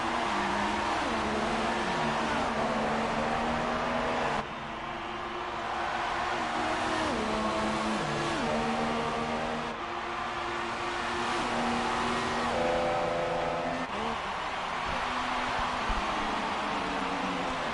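Ferrari and Red Bull Formula 1 race cars battle wheel to wheel, high engines wailing and shifting pitch continuously, loud and close throughout with gear changes audible.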